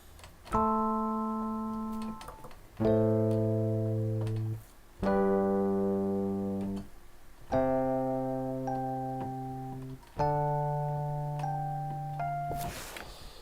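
Mark 1 Classic Rhodes electric piano preset playing five sustained chords, each struck clearly then decaying smoothly with warm bell-like tone, evenly spaced about every two and a half seconds, alone without talk.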